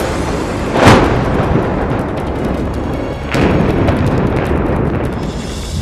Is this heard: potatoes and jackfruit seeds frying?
no